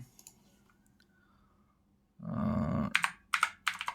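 A burst of quick clacking keystrokes on a computer keyboard as a web search is typed, coming in after a near-silent stretch, close and fairly crisp, with short clusters of taps and brief pauses between them.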